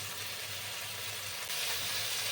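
Chopped tomatoes frying in ghee in a pan, a soft, steady sizzle and hiss, faint and continuous, swelling slightly toward the end.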